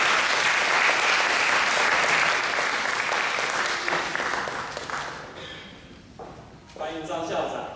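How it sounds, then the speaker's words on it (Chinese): Hearty audience applause welcoming a school principal onstage at a results exhibition, full and sustained at first, then thinning out, with voices and a crowd murmur coming through toward the end. "大家热情的掌声"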